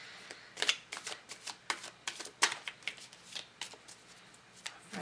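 Tarot cards being shuffled by hand in a quick, uneven series of crisp riffling snaps and soft slaps, close and fairly quiet against near silence.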